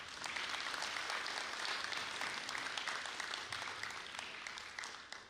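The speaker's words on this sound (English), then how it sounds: "Please give them a round of applause." Audience at a school district ceremony honoring international teachers, retirees and Hall of Fame inductees applauds steadily, a dense wash of clapping that holds at an even level and tapers slightly at the end.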